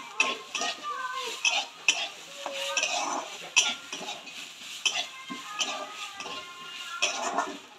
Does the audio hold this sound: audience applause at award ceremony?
no